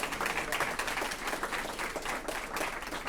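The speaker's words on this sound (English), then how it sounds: "Let's give a round of applause to Miss Ashley." Applause from an audience at a South Phoenix history event for a woman named Ashley, a steady broadband patter of many hands clapping at moderate distance with no talk.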